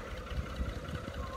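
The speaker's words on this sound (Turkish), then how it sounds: "Traktör böyle yavaş gider arkadaşlar." A tractor fitted with a creeper gear runs slowly during tobacco planting with a planting machine, giving a low, steady rumbling engine drone with faint irregular knocks, close and continuous throughout.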